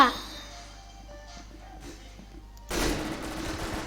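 Rapid MG42 machine gun fire in a video game: a dense, loud burst of continuous shots begins suddenly partway through, following a quieter stretch of low game ambience.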